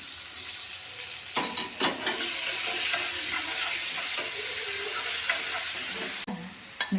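Onions with bay leaves, a small tomato and green chili fry steadily in a pan, a dense sizzle broken by scraping stirs and short clatters, close and loud with no voices.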